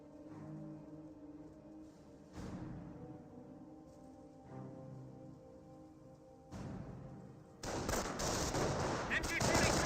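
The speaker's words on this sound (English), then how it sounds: "Wehrmacht sniper firing away" A Wehrmacht sniper rifle fires in the Company of Heroes video game, giving sharp isolated cracks among distant battle noise, then a sustained loud crackle of fire near the end, while a voice talks faintly underneath.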